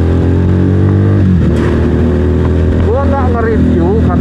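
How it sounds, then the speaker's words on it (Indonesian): Motorcycle exhaust revving while riding, a loud close engine note that dips and then climbs in rising pitch sweeps toward the end. "suara knalpot motor gue juga apakah kedengaran jelas atau tidak"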